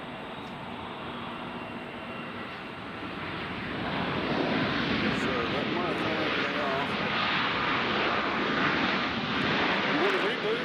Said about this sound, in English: Just enjoy these planes.